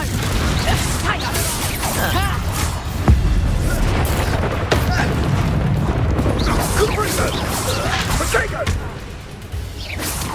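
A Confringo fire spell explodes in Hogwarts Legacy, with a sharp blast partway through that rises out of dense, continuous game noise and rumble; a voice is heard over the action.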